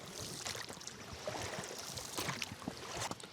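Small fishing boat gliding across a pond on the way to a fishing spot, with gentle water splashing and lapping mixed with faint wind noise, soft and continuous.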